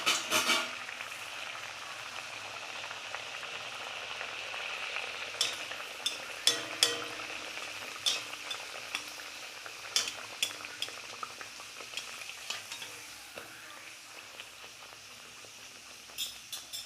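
Radhaballavi puris fry in hot oil with a steady close sizzle and crackle, joined by intermittent sharp clinks of a utensil against the pan, with no talking.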